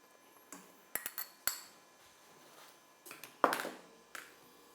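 A spoon scoops milk powder into fish pie sauce for a Guyanese fish pie, giving a series of sharp metallic clinks and taps against a pot, close and distinct, with quiet gaps between them.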